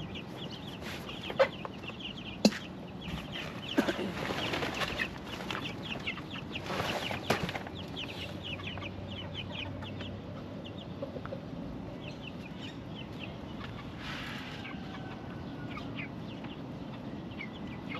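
Backyard chickens and chicks cluck and peep nearby, scattered soft calls with a couple of sharper bursts early on, fading to quieter chirping.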